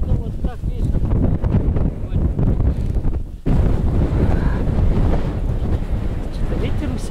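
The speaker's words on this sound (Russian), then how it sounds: "Что-то ветер усиливается" Strong wind roars in a snowy taiga blizzard, a loud continuous gusty rush buffeting the microphone up close, with one brief lull midway and faint voices beneath.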